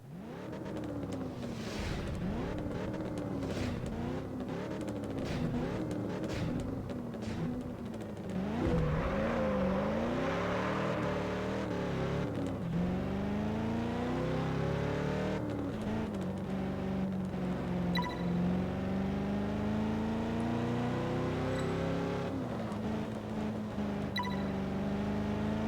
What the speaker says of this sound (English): Overtaking one of those alphas in an Aston Martin Vantage is not exactly the most difficult task.